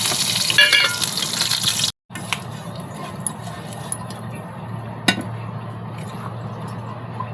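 Curry leaves fry in hot oil for rava poha cutlets, a loud crackling sizzle at first that cuts out briefly, then settles into a softer steady frying hiss with occasional clinks.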